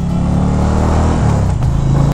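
An Indian Challenger motorcycle leaning through a road corner, its engine a loud, close, steady drone with a slight dip and rise in pitch as it holds speed through the turn.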